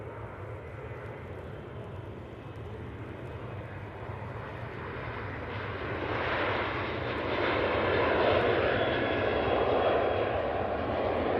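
Ryanair airliner departing Manchester Airport for Dublin, a broad engine roar that swells louder in the second half and holds as a steady wash of jet noise.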